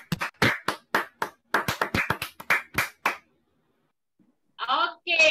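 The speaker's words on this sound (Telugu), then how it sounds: "మైక్ ఆన్ చేసుకుని క్లాప్స్ కొట్టండి." A quick run of sharp, uneven claps from children heard over an online call, sounding thin and compressed, followed by a short silence and then a brief voice.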